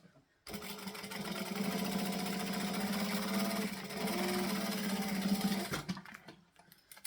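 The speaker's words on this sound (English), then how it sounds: "I'm going to flip this over, and then I'm going to top stitch along here." A sewing machine runs steadily for about five seconds while top stitching fabric, a close rapid mechanical whir with a rhythmic needle chatter that starts abruptly and stops, followed by faint handling noise.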